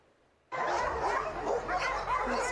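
Several dogs evacuated to a shelter bark and yip excitedly all at once, a sudden loud burst of overlapping barking that keeps going after a quiet start.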